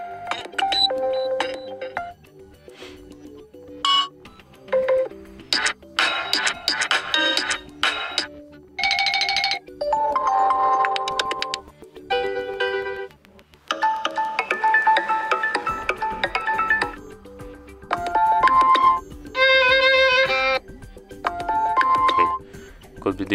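Preset ringtones on a TCL 20L phone play one after another, short bursts of bright chiming melodies and electronic tones separated by brief pauses, fairly loud and close.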